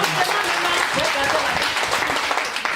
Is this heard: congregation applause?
yes